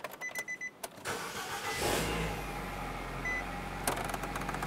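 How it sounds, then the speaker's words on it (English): A 2007–2012 Nissan Versa engine cranks briefly after a few clicks, catches, and settles into a steady, close idle hum, with a short clunk near the end. "we're going to go ahead and start up the vehicle"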